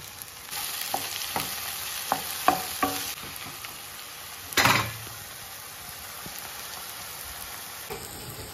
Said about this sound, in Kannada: ಒಂದು ಬ್ರೌನ್ ಕಲರ್ ಬತ್ತಿ ಪಕ್ಕ ಇಷ್ಟು ಟೊಮೆಟೊ ಬಾಡಲಿ